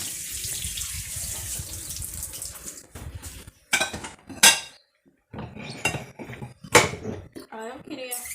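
Dishes being washed in a sink: a running tap gushes at first, then plates and cutlery clink and clatter in close, irregular bursts while people talk nearby.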